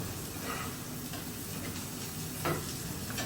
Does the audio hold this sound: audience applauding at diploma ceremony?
no